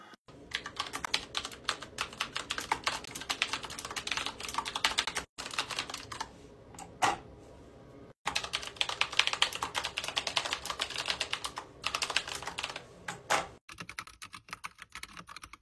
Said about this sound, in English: the pre-loop stabs are the best sounding stabs I've heard on a budget keyboard come stock